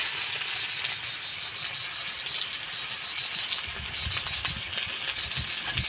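A large chopped onion goes into hot oil in a wok, producing a steady, loud sizzle with crackling pops that continues for several seconds without speech.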